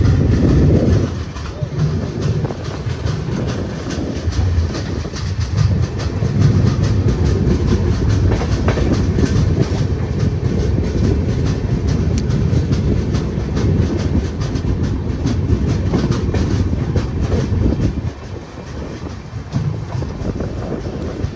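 Kondaveedu Express passenger train running after departing Dharmavaram, a loud continuous rumble with rhythmic clatter of wheels on rails and wind buffeting, heard from inside a coach throughout.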